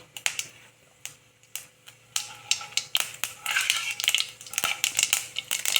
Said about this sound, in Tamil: ஆயில் விட்டுட்டு கொஞ்சம் கடுகு கடுகு கடுகு போட்டாச்சு கொஞ்சம் லைட்டாக உளுந்து கூட போட்டுக்கலாம்